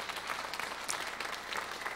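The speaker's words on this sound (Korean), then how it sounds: "우리 영광의 박수 올려드리겠습니다" A congregation claps together during a New Year worship service at a church, a faint, steady patter of applause heard from some distance.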